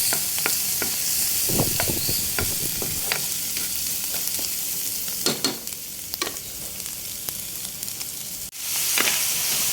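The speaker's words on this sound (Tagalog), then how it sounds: "tapos magpiprito po tayo ng bawang" Garlic fries in a pan with a loud, steady close-up sizzle and hiss, broken by scattered scrapes and clatters from stirring throughout. No one speaks.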